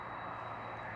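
Airliner taxiing at Schiphol airport in Amsterdam, heard as a steady, broad jet engine roar with a thin high whine, constant and fairly distant, with no voices.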